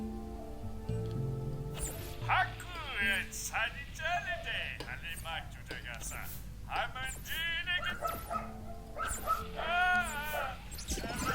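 Dogs in the Spore video game yip and bark in short repeated bursts with whimpering tones, fairly close, over game music and background sound.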